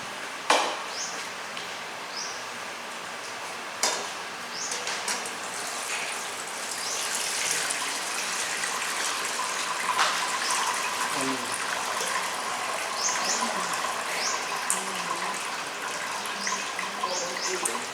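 Water pours into a container during curd-making, a continuous splashing gush with a few knocks and clinks, close and fairly loud throughout.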